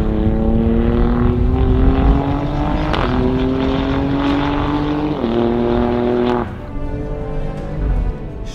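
Ferrari-derived 2.9-litre V6 of an Alfa Romeo Stelvio Quadrifoglio SUV in race mode, loud and close, rising in pitch through several gear pulls with sharp shift breaks and a brief drop in level near the end.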